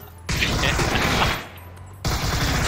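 Rapid automatic gunfire in PlayerUnknown's Battlegrounds comes in two loud, close bursts separated by a brief lull, with crisp repeated shots filling each burst.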